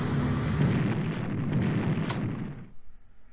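Naval bombardment in the Strategic Command WW2 strategy game, a dense, loud rumbling barrage of explosions and artillery fire that rolls on steadily, then cuts off abruptly and fades near the end.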